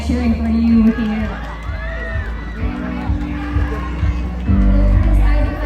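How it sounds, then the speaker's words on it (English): Supporters cheering and shouting in a loud crowd at a beauty pageant's final question-and-answer round, a dense continuous roar of voices with rising swells, speech mixed in. "I've been hearing them all night cheering for you here."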